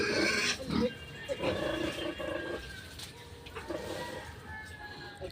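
Eight pigs on a farm grunting and squealing in irregular overlapping bursts, close and fairly loud, with some chicken clucking in the background.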